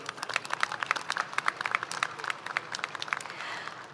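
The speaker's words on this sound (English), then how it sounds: "Let's give a big round of applause for our Board of Trustees." Audience clapping for a board of trustees at a high school graduation ceremony, a dense, steady burst of many hands applauding together at moderate volume for about four seconds, with faint crowd voices mixed in.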